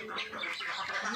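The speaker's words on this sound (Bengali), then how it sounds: "ওই হাঁসটাকে ধরো" A duck on a farm quacks and flaps while someone tries to catch it, the loud, bright calls running continuously through the short moment.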